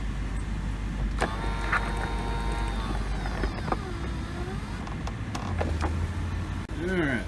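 The convertible top latch and tensioner mechanism of a BMW E64 whirs and creaks as its motor runs, with the car's engine idling steadily beneath, a few sharp clicks, and a closing clunk near the end.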